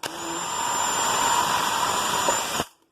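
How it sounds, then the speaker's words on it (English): A power drill runs steadily for nearly three seconds, boring drainage holes into a plastic plant pot, a loud close whining buzz that then cuts off abruptly to silence. "I'm going to drill some holes"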